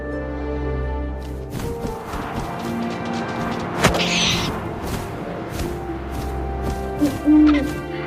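An owl hoots in the video game What Remains of Edith Finch, with soft low calls over a steady wind-like game ambience and a few sharp thuds, and no speech.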